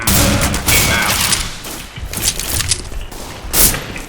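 Sniper rifle fire in the video game CS:GO, loud and dense, with heavy booms and thumps packed together over a noisy battle backdrop and no voices.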